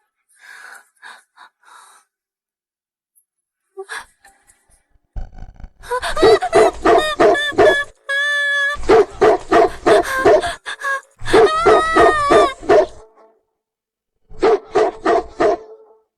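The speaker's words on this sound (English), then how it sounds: "Mr. Ford, there's a large, aggressive dog back there." A large, aggressive dog barks loudly in repeated bursts and runs of deep barks, close by in a backyard, after a few quieter sounds at the start.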